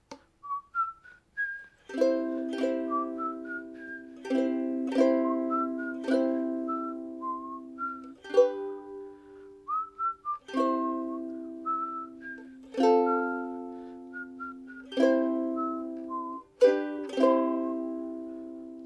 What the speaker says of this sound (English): Maybe I'll whistle it.